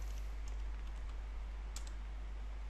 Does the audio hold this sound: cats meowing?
no